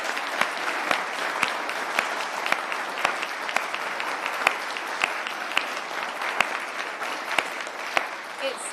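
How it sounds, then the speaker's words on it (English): An audience at a community safety event in London applauds steadily for several seconds, a dense even wash of clapping with a few sharper nearby claps standing out. "I am going to ask people to give a round of applause."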